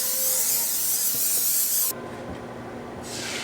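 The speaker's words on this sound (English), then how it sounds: "Some non-stick spray." A sustained hissing non-stick cooking spray runs for about two seconds, stops, then starts again briefly, close and fairly loud.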